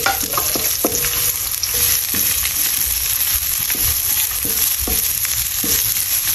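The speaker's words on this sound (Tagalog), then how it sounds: "Mag-isa muna tayo ng bawang sibuyas." Garlic and onion frying in hot oil for a Filipino ginataang sigarilyas dish, giving a steady loud sizzle throughout with repeated scraping and stirring knocks against the pan.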